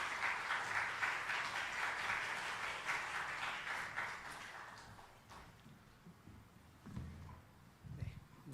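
A church congregation applauds to welcome a pastor as the next speaker, faint, dense clapping that holds for several seconds and then dies away, followed by a few soft bumps and movement sounds.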